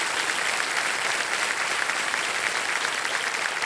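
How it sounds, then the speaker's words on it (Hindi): Studio audience on a television quiz show applauding to welcome a contestant, steady dense clapping that stays even and full throughout, with no voices over it. "एक बार फिर तालियों के साथ इनका स्वागत है"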